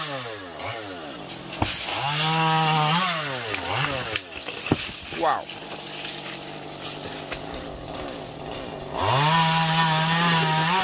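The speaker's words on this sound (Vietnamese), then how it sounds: "Chuẩn bị cưa mấy cái này khá lớn luôn." A chainsaw cuts through large tree branches on a mountainside, its engine revving up and dropping in repeated surges, loud and close, with a brief exclaiming voice in between.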